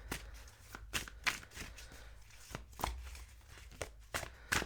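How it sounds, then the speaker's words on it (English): Tarot cards being shuffled and pulled during a love reading, giving a run of quick papery riffles and soft slaps at an uneven rhythm, close and fairly quiet, with no voice over them. "I'm going to pull a couple more cards just to see ones to come through."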